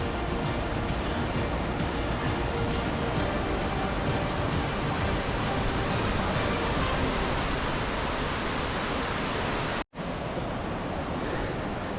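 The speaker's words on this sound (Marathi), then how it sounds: "मित्रांनो फायनली धबधबा दिसायला लागला" Ambai waterfall on a hilltop in the Sahyadri hills, a continuous broad roar of falling water filling the scene, steady and fairly close, with a brief dropout near the end.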